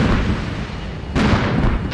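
Heavy gunfire and explosions rumble from Armored Brigade 2, a modern combat game set in an urban strike mission: a loud, continuous barrage with a sharper blast cutting in partway through, no talking.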